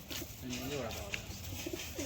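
A Madras pigeon coos softly in a few short, rolling phrases, close by but quiet, over a low background murmur of voices.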